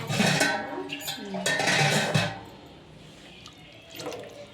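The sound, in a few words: water being poured for cooking noodles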